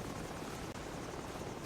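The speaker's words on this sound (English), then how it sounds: "So we've got company. Helicopter." Helicopter rotor noise in the shooter game Call of Duty 4: Modern Warfare on PlayStation 3, a dense steady whirring drone that holds loud throughout with only a brief dip, no voices over it.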